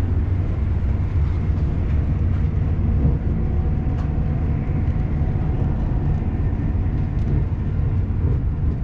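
Steady low rumble and rattle of a moving train cabin, continuous and even throughout, with no voices.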